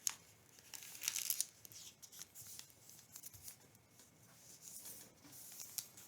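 Sheet of origami paper being folded in half lengthwise and creased, giving soft crinkling, rustling and brushing sounds, faint and close, with small bursts and no talk.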